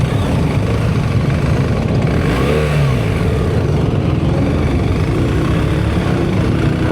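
A BMW R 1300GS motorcycle engine revs while riding, giving a loud, continuous mid-range drone mixed with wind rush and a brief rising rev near the middle.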